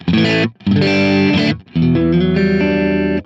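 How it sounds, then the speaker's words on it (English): An electric guitar played through a Kemper Profiler rings out in a crunchy, lightly distorted tone: a short chord, a longer sustained one, then a final held chord after a brief gap. "It's more pearly, clean, crunchy."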